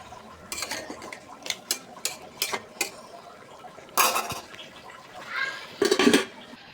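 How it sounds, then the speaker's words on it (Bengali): A spoon scrapes and clanks against a pot of bubbling chicken and vegetable khichuri curry, in a run of quick knocks followed by a few heavier stirring strokes, with no one speaking. "লাড়াচাড়া করে দিব।"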